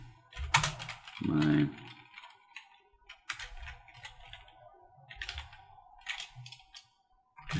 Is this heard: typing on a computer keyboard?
yes